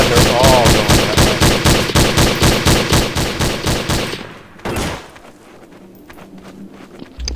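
Rapid automatic gunfire in Counter-Strike: Source, a loud close string of evenly spaced shots for about four seconds, then a single heavy blast and quieter background sounds with a voice speaking.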